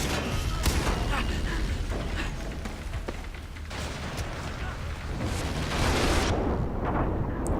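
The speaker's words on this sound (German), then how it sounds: "Ich muss auf die Rohre schießen!" Gunfire in the video game Far Cry 3 while shooting at pipes, with bursts of shots and rumbling blasts mixed into dense game noise and a voice talking over it.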